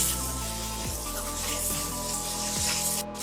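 Masala for matar pulao roasting in a pan, a steady close sizzle and fry hiss running throughout with faint scrapes of stirring and no talking.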